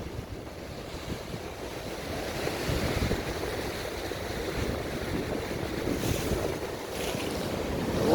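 Wind-driven sea surf at the Rosh Hanikra grottoes on Israel's coast, a steady broadband wash of waves against rock with heavy wind buffeting the microphone, swelling slightly midway and holding loud and close with no talk.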